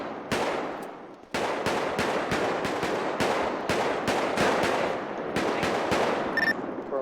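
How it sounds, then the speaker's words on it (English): Rapid bursts of automatic gunfire fill a GTA V FiveM roleplay scene, with sustained sharp volleys repeating nearly without pause after a brief gap at the start, loud and close, with no talking. "Can't hear over the gunshots."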